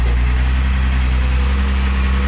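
Ten-wheel dump truck loaded with sand pulling out of a sand pit, its heavy diesel engine a steady, loud, low rumble throughout with no voices.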